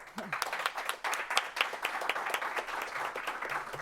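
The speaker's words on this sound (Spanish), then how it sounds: "Un aplauso, por favor." An audience applauds after a panel discussion on religion and politics in Latin America, a dense, fairly quiet patter of many hands clapping steadily for several seconds, with a voice heard briefly at the start.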